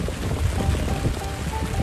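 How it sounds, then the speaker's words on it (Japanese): Heavy rain pours steadily outdoors near potted satsuki azalea cuttings, a dense continuous wash of drops drumming on surfaces, moderately loud and unbroken, with no talking. "雨すげえな。"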